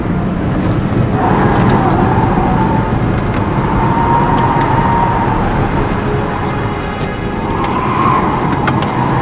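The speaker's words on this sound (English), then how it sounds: "Stop the fucking car!" Car driving in the Heavy Rain video game, a loud, steady engine hum running without a break under tonal wavering sounds, like game music or a distant siren rising and falling.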